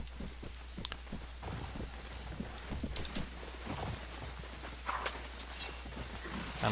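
A mounted horse walking in the video game Mount & Blade Warband, soft irregular clip-clop hoofbeats at a moderate distance over a steady low hum.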